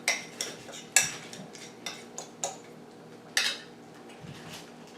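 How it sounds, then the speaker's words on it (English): A knife and fork cut through fried eggs over medium on a plate of torn biscuits, giving sharp metallic clinks and scrapes against the dish, several distinct strikes close up with no speech. "I'm just going to cut my egg up, or eggs"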